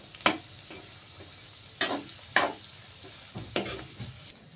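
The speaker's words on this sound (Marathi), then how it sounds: "आता हलवून घेते मी मस्तपैकी" Fried potatoes with peanut powder being stirred in a pan, four or five distinct scraping strokes of a spatula over a faint background sizzle.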